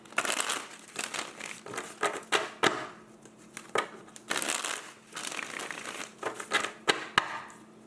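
Crisp papery rustles and snaps repeat in uneven bursts, close up, as a deck of tarot cards is shuffled by hand with no one speaking.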